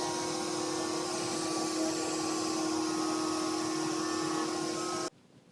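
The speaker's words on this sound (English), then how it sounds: "I decided to use my table router for this last bit" A table router shapes the edge of a wooden Christmas tree snack tray, giving a steady loud whine with a sustained tone for about five seconds before cutting off abruptly, no voices.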